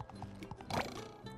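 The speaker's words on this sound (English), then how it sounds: "Let's use the horse." Cartoon horse hooves clip-clopping in the video game The Cosmic Shake, a quick run of close, even hoofbeats with a short whinny in the middle, heard alone over a steady game background.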